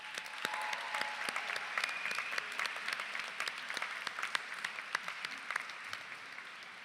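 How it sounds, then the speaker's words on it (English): An audience at a white coat ceremony gives sustained applause: a fairly quiet, even roll of many hands clapping, with a few sharper claps standing out near the front. "give the opportunity for a round of applause for all those loved ones in the audience"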